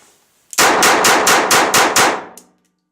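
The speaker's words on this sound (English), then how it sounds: "Let's fire on the can." Seven rapid, loud .22 pistol shots from a Walther TPH firing Remington ammunition at a can, evenly spaced and sharp, followed by a faint metallic clink and then silence.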